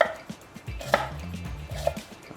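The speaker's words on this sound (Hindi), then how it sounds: "उसके बाद हम प्याज काटेंगे" A knife chops onion on a board in a home kitchen, giving a few quiet, close taps at an irregular pace over a soft low background.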